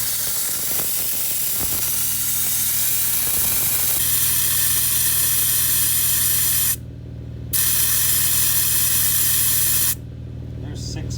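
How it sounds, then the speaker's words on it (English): Air hisses steadily out through the valve stem of a Load Range E 37 by 13.5 inch tire as it deflates toward 6 psi, a loud continuous close spray with two brief pauses and a voice speaking over it. "I'm going to hook that up to the valve stem and take this thing down to 6 psi"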